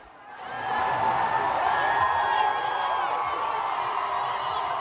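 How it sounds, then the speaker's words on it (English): Outdoor crowd cheering near a university library after the Gamecocks' women's basketball national championship win over UConn, a sustained wash of voices and whoops swelling in after a quiet start and holding steady. "They're cheering for the Gamecocks' national championship win over UConn last night."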